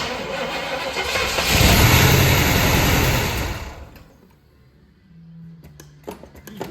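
A 1970 Pontiac Catalina engine cranks and fires, running loud and rough at close range for a few seconds before dying down; a brief second crank follows near the end.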